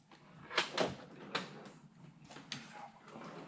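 Soft wooden knocks and sliding scrapes, a drawer pulled open and its contents rummaged through, with faint shuffling between the louder bumps.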